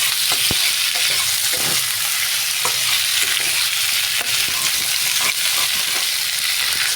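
Red taro corms are being stirred with salt in a frying pan, a steady close sizzle running under repeated spoon scrapes and small clicks throughout, with no voices.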